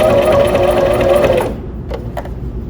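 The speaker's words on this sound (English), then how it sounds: "I'm going to sew through each of those tucks." A sewing machine stitches through the thick tucks of a pleated four-ply fabric face mask. It gives a loud, close, steady whirring run for about one and a half seconds, then stops, leaving a few faint clicks.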